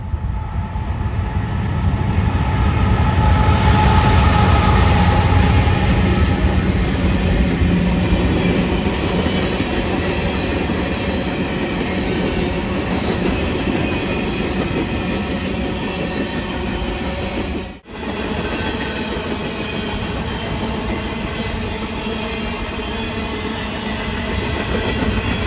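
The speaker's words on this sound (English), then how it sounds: "the first train came, which was a coal train with the usual GE slop" A BNSF coal train led by GE locomotives rolls past on the Fort Scott Subdivision, a loud, steady rumble of heavy cars with rhythmic clickety-clack from the wheels that holds for the whole stretch.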